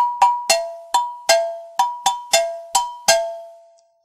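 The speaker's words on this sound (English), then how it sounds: "And this double iron bell, which denotes the time." An African double iron bell keeping time in a live drum ensemble, struck about nine times in an uneven pattern, each ringing metallic clang decaying quickly, close and clear with no other instruments.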